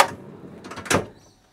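A front drawer in the canopy of a 4WD tray camping setup slides open, a short rolling rumble ending in a sharper clunk, close and alone, then fading to quiet.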